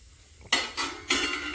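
Metal weight set onto the lid of a pressure cooker while making puttu, giving three sharp metallic clinks and rattles in quick succession, close and fairly loud.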